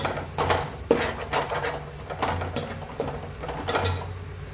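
Spices, including garam masala, being stirred in a pot for fried chicken biryani: a metal spoon scrapes and clinks irregularly against the pot, fairly quiet, with no talk.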